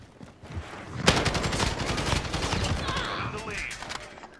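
Rapid automatic gunfire during a close gunfight in Call of Duty: Modern Warfare erupts after a brief quiet moment, a loud sustained burst of shots with crackling echoes lasting a few seconds.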